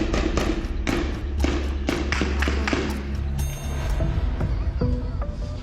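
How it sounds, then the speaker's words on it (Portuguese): Rapid sharp bangs of gunfire in a residential area of Pedro Juan Caballero in the afternoon, a dozen or so shots in quick succession echoing off surroundings, fairly loud, with a low rumble underneath. "ouça a quantidade de tiros disparados às 4 da tarde numa área residencial"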